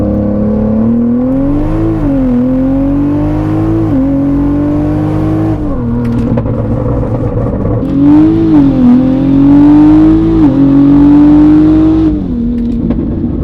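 800HP Toyota Supra MK5 with a Precision 6466 turbo, E85 fuel and built transmission pulls hard in second gear, a loud close engine note rising in pitch through repeated climbs with brief dips at shifts or lifts.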